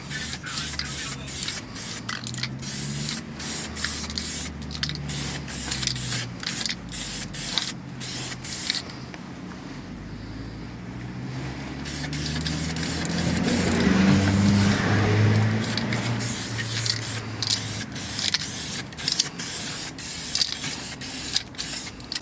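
Aerosol can spraying weld-through primer onto a masked-off car chassis rail and cross beam, a steady hissing spray in repeated bursts with short pauses, close and fairly loud, with no talking.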